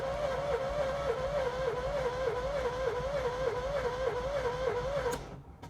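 A 1986 Corvette C4 V8 with a suspected fuel pump fault cranks steadily without catching, the starter's rhythmic whirring pulse repeating evenly up close before cutting off abruptly near the end.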